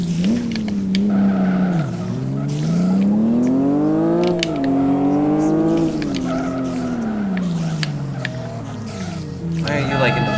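A car engine in a racing video game revs and shifts through rising and falling pitch sweeps, with tire squeals and clicks, while someone talks over it.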